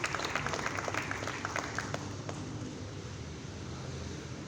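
An audience claps warmly to welcome performers onto the stage at an Urdu stage comedy show, a dense, sustained round of applause that stays loud and then thins slightly toward the end, with faint voices in the crowd.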